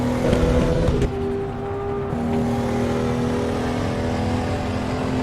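Tofaş car engine at full throttle in the Assetto Corsa racing game, a loud sustained droning rev that dips briefly after a second, then holds steady and strong to the end.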